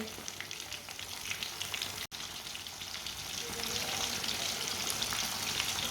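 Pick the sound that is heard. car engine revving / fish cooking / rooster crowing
fish cooking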